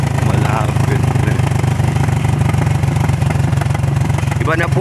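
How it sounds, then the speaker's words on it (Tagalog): A motorcycle engine runs loud and close on a rural road toward a village, with a steady low rumbling throb throughout and faint voices in the background. "Iba na po ang tunog ng kanyang motor."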